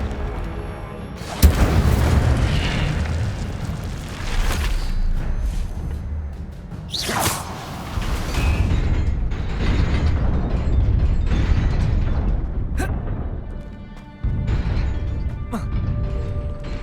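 A fire spell bursts out in Hogwarts Legacy: loud whooshing blasts and booming impacts over a rumbling game soundscape, with a sharp burst early on and another fiery flare in the middle.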